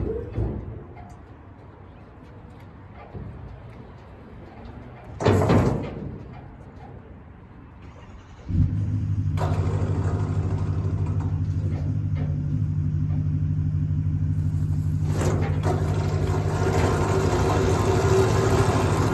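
A Kubota L3901 tractor pulls forward after a quiet stretch, its engine settling into a steady, loud droning rumble with a clatter and a brief knock near the middle.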